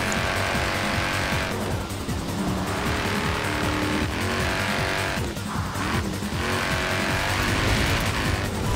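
An all-wheel drive car in a racing video game, its engine roaring loud and continuous with rising and falling revs, shifts and brief tire squeals, filling the mix with no talking over it.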